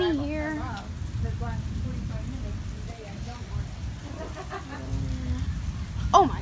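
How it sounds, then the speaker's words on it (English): Heavy rain pours down outside during a dark storm, a steady hiss under the clip while someone talks over it. "It's so rainy here."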